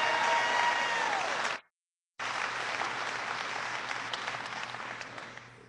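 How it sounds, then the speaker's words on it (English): A large audience at an Obama event in Charlotte applauds loudly with a few whistles, a sustained roar of clapping broken by a brief abrupt silence before resuming and slowly easing off. "Give him a big round of applause."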